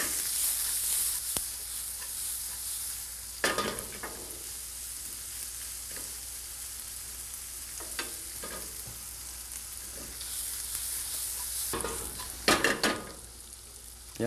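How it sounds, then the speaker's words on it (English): Onions sauté in a pan for a tarte flambée, giving a soft, continuous sizzle with occasional utensil scrapes and clinks, a louder cluster of stirring knocks near the end. "we don't want the onions to be sauteed too much"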